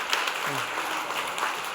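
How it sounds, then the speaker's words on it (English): Conference audience at a keynote clapping for the speaker's partners, a steady wash of applause from many hands filling the hall, with a brief voice rising over it. "give me a big round of applause of my partners that are here present"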